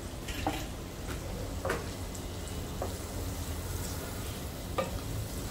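Turmeric tempering for dal fry sizzles gently and steadily in a pan, with a few sharp clinks of a spoon stirring at irregular moments and no talking.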